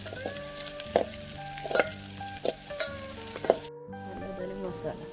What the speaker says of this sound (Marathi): आता फक्त खेकडे टाकायचे बाकी राहिलेले सगळं टाकायचं